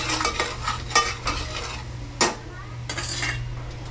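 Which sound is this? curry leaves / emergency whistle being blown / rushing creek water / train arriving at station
curry leaves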